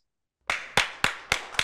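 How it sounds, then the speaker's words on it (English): Applause for a speaker comes as five sharp, evenly spaced claps after a moment of silence, close and crisp, with no talking. "applaud our speaker"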